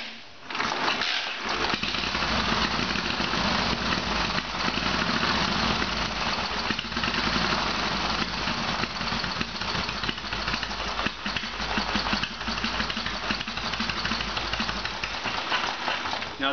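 A rare antique Traub motorcycle engine runs at a steady idle, its loud, even mechanical chugging continuing close up for the whole stretch without a pause.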